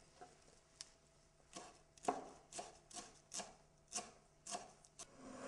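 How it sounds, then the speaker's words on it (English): Knife chopping fresh parsley on a board: a quiet series of about a dozen crisp, irregular taps and scrapes, close and alone with no talk. "Next, I chop up the parsley."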